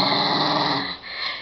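A dog growls loudly and steadily up close, a rough continuous snarl that eases briefly before rising again, with no talk over it.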